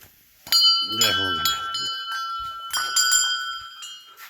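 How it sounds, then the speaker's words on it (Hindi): Temple bells at a hillside shrine in Uttarakhand ring out in several bright metallic strikes, their long tones overlapping and lingering, while someone talks over them nearby. "ये घंटियाँ लगी हुई है।"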